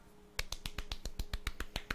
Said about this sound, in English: I want to just give a small golf clap